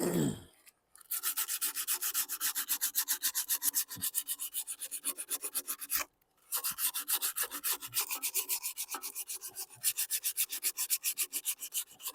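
Surface rust is rubbed off the flywheel of a 2009 Toro Recycler lawn mower, with rapid, steady back-and-forth scraping strokes close up and two short pauses.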